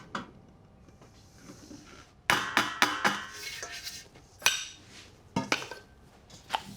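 A mixing bowl is set onto a stand mixer during sourdough preparation, giving a run of sharp metallic clanks and knocks, close and fairly loud, in quick clusters with short pauses between.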